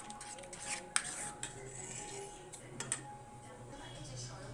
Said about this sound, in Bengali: এটাকে আমি ভালো করে মিক্স করব।